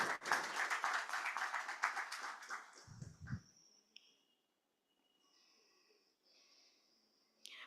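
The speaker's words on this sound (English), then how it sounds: "A huge round of applause to all the office bearers for doing this." A conference audience in a hall gives a round of applause to the office bearers, dense clapping for about three seconds that trails off into near silence with faint scattered sounds.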